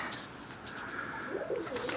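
Birmingham Roller pigeons cooing softly in a loft after flying, low murmuring coos over a steady background hiss, with faint higher bird chirps now and then, fairly close.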